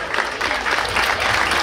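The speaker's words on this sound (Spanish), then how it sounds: "A ver ese fuerte aplauso para la agrupación folclórica" An audience at a cultural gathering applauds a folk dance group, a dense, steady wash of clapping from many hands filling the whole moment.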